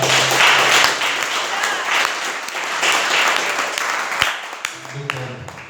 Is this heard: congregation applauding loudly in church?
yes